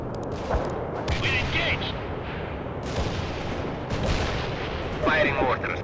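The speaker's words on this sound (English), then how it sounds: "Firing mortars." Mortar fire in the war strategy game World in Conflict: a dense, continuous rumble of distant artillery and gunfire with repeated dull thumps and blasts, and a faint voice or radio chatter mixed in.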